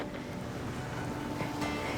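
Ocean waves at Tayrona Park beach in Colombia, a steady, soft wash of surf mixed with wind noise, distant and continuous with no speech.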